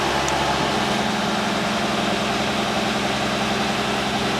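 An old vehicle engine, started cold with no choke, idles in a steady, loud low rumble with an even mechanical chug and no pauses.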